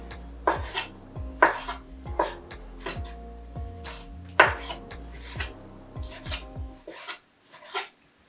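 Knife cutting lobster tail into chunks on a board, a series of sharp irregular chops and scraping rasps with clinks of dishes and utensils, close and fairly loud, ending in brief quiet with a last couple of cuts.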